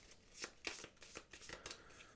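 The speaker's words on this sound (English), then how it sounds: "taking the infection discard pile, shuffling it" Quick riffle-shuffling of a small stack of infection discard cards from the Pandemic Legacy Season 2 board game, a handful of crisp papery bursts in close succession, near and fairly quiet.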